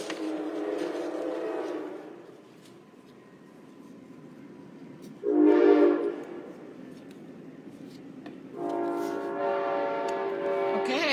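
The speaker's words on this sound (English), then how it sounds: "oh, I hear another train." A train passes with repeated horn blasts, three long honks separated by quieter rumbling gaps.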